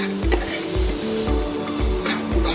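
Oil sizzles steadily in a pan as onions roast, with a few scraping stirs and low thumps recurring roughly every half second, close and fairly loud.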